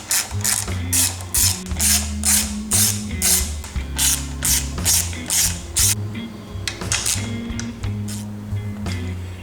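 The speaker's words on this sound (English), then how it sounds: "So let's go ahead and take this cover off." Someone works on the water pump of a Yamaha F250 outboard in a shop, giving a quick series of sharp, close ratcheting clicks in bursts, then scattered lighter mechanical ticks.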